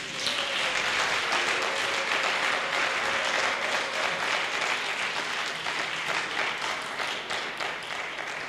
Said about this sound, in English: you really have to clap for these panelists.